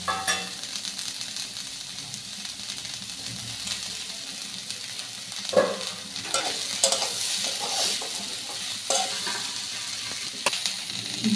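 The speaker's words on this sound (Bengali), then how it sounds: "এবার ক্যাপসিকামগুলোকে দিয়ে দেবো।" Chopped capsicum is stir-fried with vegetables for oats khichdi in a pan, producing a moderate, continuous sizzle broken by close spatula scrapes and clinks.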